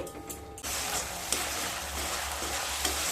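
Eggplant with kasundi mustard sauce and spice water bursts into loud sizzling in a pan after a brief quieter opening, a dense steady frying hiss with a few stirring scrapes.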